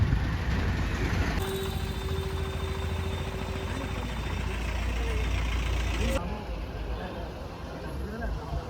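Slow-moving vehicles crawl through a traffic jam near Erumeli, a steady low engine rumble and idling drone with people talking over it.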